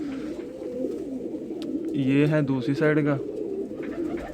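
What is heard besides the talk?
pigeon cooing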